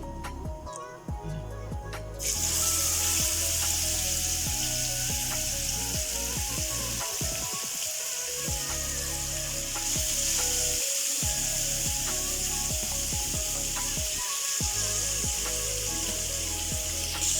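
Marinated chicken hits a pan holding a few tablespoons of hot oil and sets off a loud, steady sizzle that continues unbroken after a brief clatter at the start.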